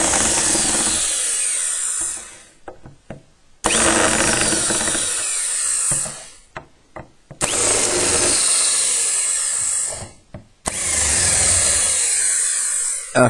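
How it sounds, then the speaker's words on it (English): A loud power drill whirs in long bursts while unscrewing screws from a Peavey RX22, stopping and starting repeatedly, with brief rattles and quiet gaps between runs. "I can use my fancy tool drill for this. It's a shame it only does the unscrewing"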